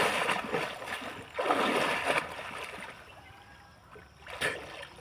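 Water splashes in bursts as someone bathes in a flowing irrigation canal fed by the Kaveri, rough sloshing surges near the microphone over a steady running-water wash.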